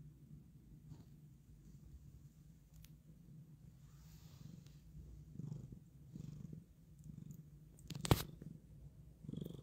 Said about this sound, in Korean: 골골송 들리시나요?